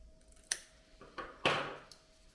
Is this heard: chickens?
no